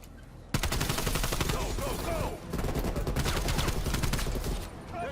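Call of Duty Black Ops gameplay gunfire: dense rapid automatic bursts of shots, loud and close, running almost continuously with a brief pause midway, layered with game sound effects.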